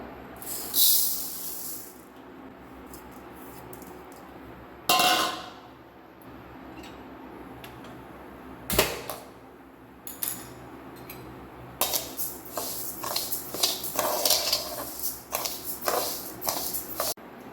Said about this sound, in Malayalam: സോ മട്ട അരിയാണ് വറുക്കാൻ പോണത് കേട്ടോ